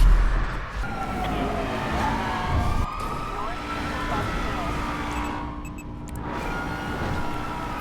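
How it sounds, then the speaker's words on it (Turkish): Police sirens wail in the video game GTA 5 as cars chase the player, rising and falling tones layered over engine noise and skidding, with excited talk over the top. "Oh, Mo polisler peşimize, polisler peşimize"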